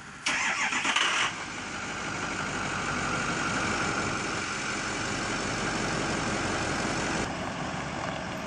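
A Ram pickup truck's engine cranks and catches with a loud burst, then settles into a steady, close rumbling idle that carries on to the end.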